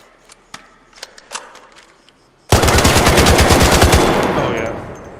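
A weapon in the video game Arc Raiders fires a rapid automatic burst, a loud, dense string of shots lasting a few seconds after some quiet clicks and handling sounds.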